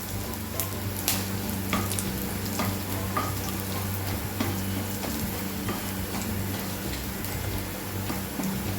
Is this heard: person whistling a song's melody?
no